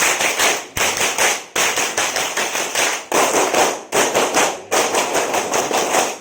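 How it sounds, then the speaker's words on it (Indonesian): Scouts at a weekend camp clap the Pramuka pattern together, crisp loud group handclaps in rhythmic phrases separated by brief gaps, repeated over several seconds. "2 kali tepuk pramuka"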